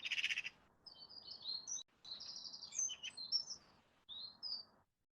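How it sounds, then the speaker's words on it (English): Outdoor birdsong with bright, repeated chirps and short trilling phrases in bursts separated by brief pauses, fairly close and alone. "We get the bird song"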